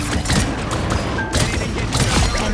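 Dense gunfire in a video game, a loud, continuous barrage of overlapping shots and blasts running right through, close and heavy with no pause.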